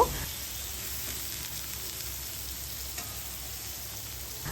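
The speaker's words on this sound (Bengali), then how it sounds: "পেঁয়াজটাকে হালকা করে একটু ভেজে নেব" Chopped onions fry in oil in a pan, a steady soft sizzle running throughout at moderate level after a brief initial clatter, with no talking.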